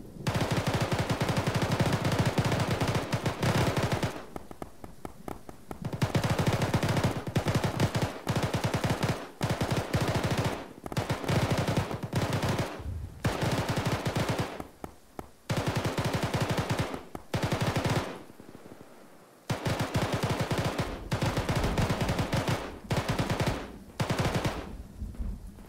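Machine gun fire in the video game Arma pours out in long, loud automatic bursts, repeated over and over with short gaps between them and one longer pause near the end.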